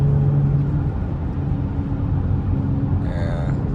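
A Chrysler 300 with a burble tune rumbles at a steady, loud low idle throughout, with a brief higher whine near the end.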